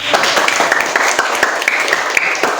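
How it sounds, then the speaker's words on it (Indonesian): A classroom of students claps together after a lesson on bullying, a loud, close burst of dense hand claps with distinct individual slaps, sustained evenly from start to finish. "Tepuk tangan"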